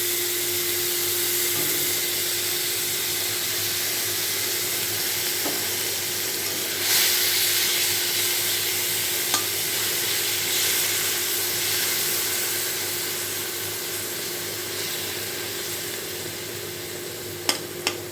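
Water lily stalks frying in a little oil in a pan while being stirred, a steady close hiss that holds for the whole stretch, broken by a few faint clicks near the end, with no talk.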